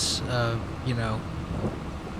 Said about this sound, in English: it has started raining even harder